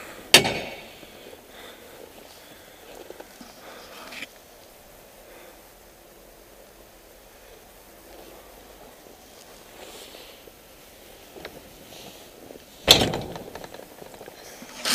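Rear vent door on a 2006 Great Dane 53x102 reefer trailer with stainless steel rear doors being worked: a sharp metallic clack near the start, a lighter knock around four seconds, then a loud slam-like bang late, with quiet gaps between.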